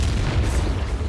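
Incendio fire spell cast in the Hogwarts Legacy video game, a single sustained fiery boom with dense low rumble and broad crackling wash lasting about a second, loud and close with no talk.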